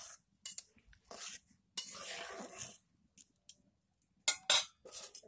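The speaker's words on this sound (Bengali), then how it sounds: "একটু ঘেঁটে দিই।" A spoon stirs food in a cooking pot on a home stove, with scattered clinks and scrapes against the metal in short bursts and brief pauses between, close by and fairly quiet.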